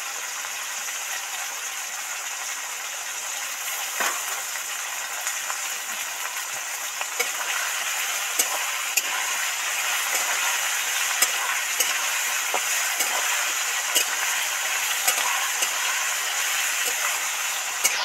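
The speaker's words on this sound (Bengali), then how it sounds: "আলু কচুগুলো তো ডিপ ফ্রাই করে ভাজা হয়ে গেছে, এর মধ্যে এবার রাঁধুনি আর আদা বাটাটা দিয়ে দিচ্ছি" Radhuni seeds and ginger paste sizzling in hot oil with deep-fried potato and taro, a steady bright frying hiss with scattered scraping clicks of a spatula stirring the pan, no talking.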